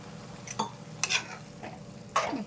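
Beetroot fry in a pan with a little water gets stirred, giving a few distinct scraping strokes of a spoon over a soft, quiet sizzle.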